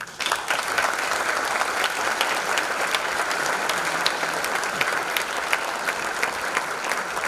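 Loud, sustained applause from the audience at a fifth-anniversary breakdance show, many hands clapping in a continuous dense roar with scattered sharper claps, steady throughout.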